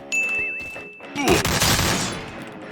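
AK rifle fire in Free Fire Max: after a brief electronic tone and chime, a dense burst of rapid gunshots erupts, loud and close, continuing to the end.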